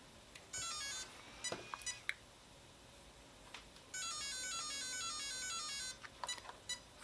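Mamba X electronic speed control on a Traxxas TRX4 chirping through its calibration sequence: a few short separate beeps, then a long run of rapid rising musical tones, then more brief beeps, clear and close in a quiet room.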